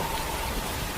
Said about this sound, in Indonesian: Hujan yang sangat deras